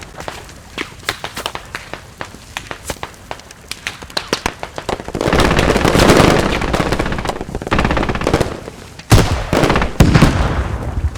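Combat in the video game Squad: rapid gunfire cracks, then a loud sustained explosion roar, followed by more sharp bursts, all close and loud.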